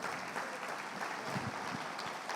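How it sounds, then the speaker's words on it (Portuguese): A church congregation applauding during an afternoon prayer service, a dense, even wash of many hands clapping at moderate distance with no pause. "Quem pode aplaudir ao Senhor?"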